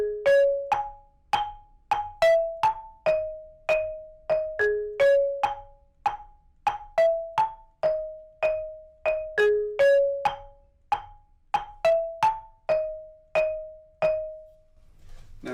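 Marimba playing a rhythm, a steady pattern of bright, bouncy mallet notes with short pauses, clean and close with no voices.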